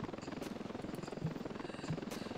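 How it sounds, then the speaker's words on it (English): A helicopter flying in the video game Ravenfield, its rotor chop thumping in a steady rapid rhythm at moderate distance, fairly quiet, with a couple of brief thuds and no speech. "our freaking helicopter up there is just knocking them"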